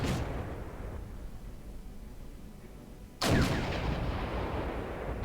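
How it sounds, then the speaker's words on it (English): Tanks firing in the real-time strategy game Wargame: European Escalation, a continuous rumbling battle din with a sudden loud blast about three seconds in, followed by sustained heavy roar. "The tanks just wipe them out."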